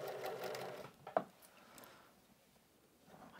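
Sewing machine stitching a blouse, a soft quick whirring burst during the first second, then a click and a quiet stretch with faint room noise.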